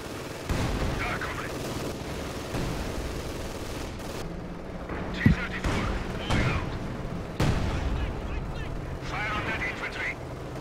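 Mortar blasts and gunfire from the Company of Heroes 2 battlefield, with several sharp booms and scattered shots over a steady combat din, while a voice talks throughout.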